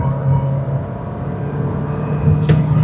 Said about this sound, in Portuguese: Tirando o pé do freio e acelerando.